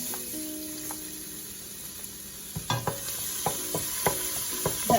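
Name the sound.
garlic frying in hot oil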